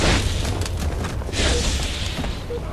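A rocket explosion in Halo 3, a loud close boom with a rumbling, crackling tail that stays heavy and noisy for a few seconds.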